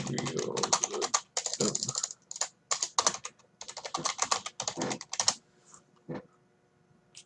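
Typing on a computer keyboard: quick bursts of crisp clicky keystrokes in uneven runs with brief pauses, close and clear, with a soft voice in places.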